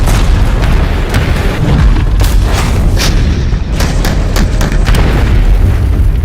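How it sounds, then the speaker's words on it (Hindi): A massive explosion, the 1945 atomic bombing of Hiroshima, Japan, as a dense, continuous roaring boom that fills the whole stretch at high loudness, with rumbling bursts layered on top. "एक दिन सुबह सुबह हिरोशिमा जापान में बहुत बड़ा धमाका हुआ।"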